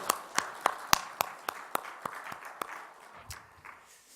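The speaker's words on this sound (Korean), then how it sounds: "우리 다시 한번 영광의 박수 올려드릴까요?" About ten separate hand claps from a church congregation at a Friday evening worship service, sharp and evenly spaced at first, then thinning and fading toward the end with no talk over them.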